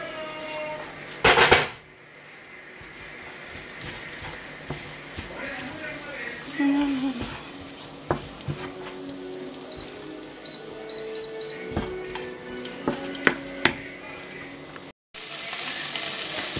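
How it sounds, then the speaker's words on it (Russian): Sautéed vegetables sizzle and fry in a pan, a steady crackling hiss broken by clinks and stirring knocks close by, with a voice speaking at times. "И поджарим еще немного."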